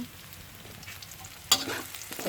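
Clam meat stir-fried with holy basil in a hot pan sizzles steadily, then a sudden loud burst of frying hiss flares up as ingredients hit the oil, followed by continued crackling.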